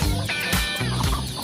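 Free-range village chickens raised the traditional way on an oil palm plantation cluck repeatedly and loudly up close, with overlapping calls in a steady outdoor chorus and no talk.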